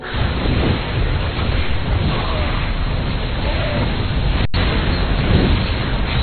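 StarCraft II photon cannons explode under Void Ray fire in a 2v2 match, a continuous dense rumble of blasts and bursts with game effects layered over it, loud and busy throughout.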